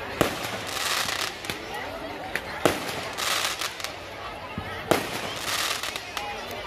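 Firecrackers burst at a Ravan effigy burning held in a cricket stadium, sharp loud cracks popping irregularly every second or so over a crowd's steady murmur and distant crackling.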